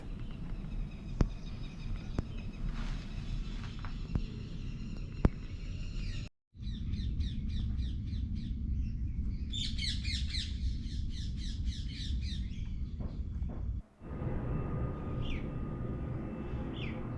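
Repeated sharp bird chirps and squawks in quick bursts over a steady low background rumble, the calls moderately close and clustered in short trills.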